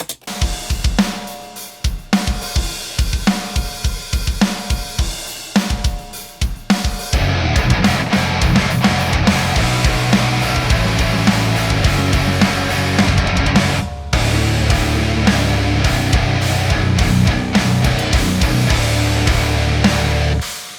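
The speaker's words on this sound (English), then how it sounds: "Let's solo the drums. They sound like this." A full drum kit playing a steady groove, with a punchy, ringing sampled snare cracking on the backbeat over kick and cymbals; loud and close.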